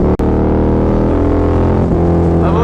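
A loud, continuous Harley-Davidson V-Rod motorcycle exhaust drone with a throaty rumble and slight pitch shifts, heard up close with no voices.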